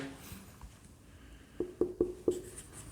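A teacher writing on a board during a physics lecture, heard as a short run of four sharp, squeaky taps and strokes after a quiet lead-in, close and with no talk.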